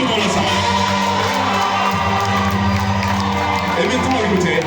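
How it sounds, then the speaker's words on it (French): An audience in a hall cheers and whoops in a loud, continuous crowd roar with shouts, while someone speaks over the noise. "Et mesdames et messieurs, nous allons applaudir pour cette femme."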